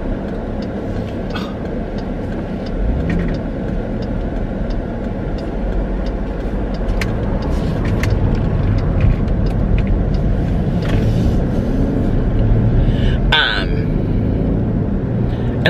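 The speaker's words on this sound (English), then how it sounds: "there's just constant traffic coming." Steady road traffic with cars passing on a busy street, a continuous low rumble that swells and fades as vehicles go by close to a waiting car, with a person talking over it.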